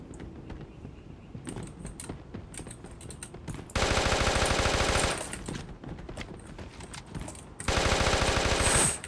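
SMG gunfire in the video game Creative Destruction: quiet scattered shots and clicks, then two loud sustained automatic bursts of about a second and a half each, close and dense, with no talk.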